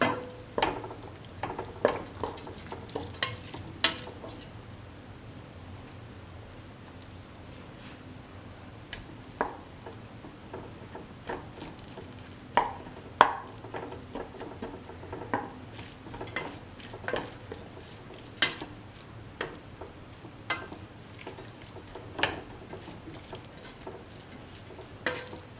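Rice being stirred into a frying bitter gourd and tomato mixture in a pan over low flame, a steady soft sizzle broken by repeated scraping and clinking of a spoon against the pan.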